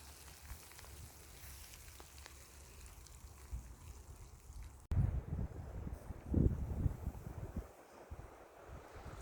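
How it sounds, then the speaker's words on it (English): Light rain shower outdoors in Scottish countryside in early spring, a soft steady patter mixed with gusty wind rumble that grows louder and closer midway, no talking. "Here's a little shower again."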